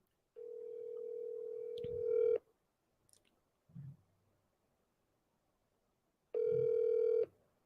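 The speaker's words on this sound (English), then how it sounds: "so I'm going to dial the number" A telephone dials a number in a quiet room, giving two long steady tones with a brief click and a short soft blip between them.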